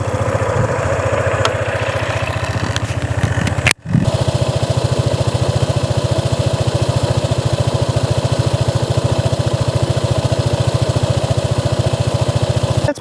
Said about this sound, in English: let's start the bike so you guys can hear what she sounds like